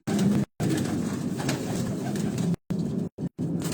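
Pigeons cooing in a loft of record-holding flying pigeons in Pakistan, a low, close, continuous murmuring coo chorus with a few brief gaps, no speech.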